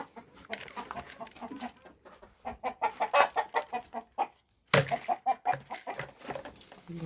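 Chickens cluck in a garden, with several close bursts of clucking in an uneven rhythm, moderately loud, broken by brief pauses.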